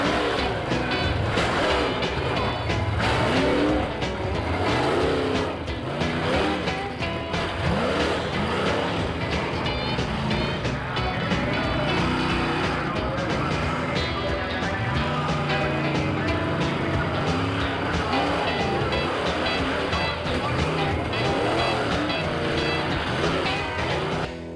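Old-school monster trucks race and crush cars in a loud, continuous engine roar with revving surges and crowd noise mixed in, sustained at full volume throughout.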